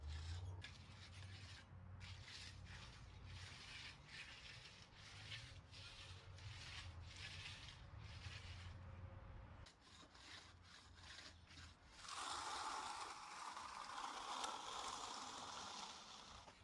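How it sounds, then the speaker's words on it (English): A Fresno trowel scrapes across a setting concrete slab outdoors in repeated long, rough rubbing strokes, close and fairly faint, with a harsher, brighter scraping pass toward the end. "Fresno trowel, finishing up that section over there real quick, and not having a lot of luck with it because concrete is setting"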